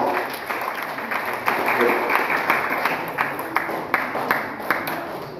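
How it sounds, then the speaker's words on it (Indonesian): Audience applause at a Quran recitation competition event in a village hall, a dense wash of clapping with sharp individual claps standing out, mixed with crowd noise and some voices throughout. "Tepuk tangan untuk semua."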